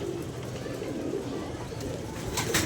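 Pigeons coo in a steady low murmur close by, a continuous soft throaty warble with faint chirps and a brief higher sound near the end.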